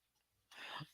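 A single short, rough cough bursts out close up after a near-silent moment, fading quickly.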